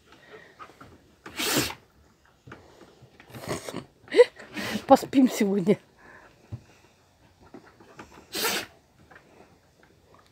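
A Central Asian Shepherd dog (Alabai) sneezes twice, close by, in sharp bursts several seconds apart, while people talk nearby.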